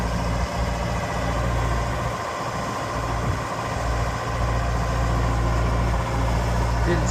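A 2006 Genie GTH844 telehandler's engine idles steadily, close by and continuous, with a low rumbling drone while the machine tilts.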